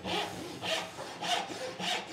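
A hand saw cuts a kerf in wood for a spline in a faux dovetail joint, with four even, rhythmic rasping strokes close by and no talking.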